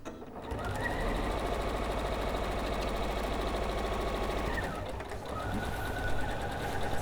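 A sewing machine runs steadily at a 1/4 inch seam through two layers of fabric, a fast even whirring hum that dips briefly near the end before resuming, close and with no talk.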